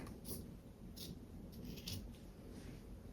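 Scissors snip away extra fabric from a thrifted garment being altered, several quick crisp cuts spaced across a faint, steady background, close and quiet with no talking.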